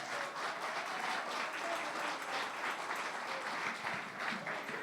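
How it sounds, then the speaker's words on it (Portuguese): Applause from a church congregation during a Sunday family service, a steady, dense wash of many hands clapping, fairly faint and distant, with no talk over it. "As palmas louvam ao Senhor."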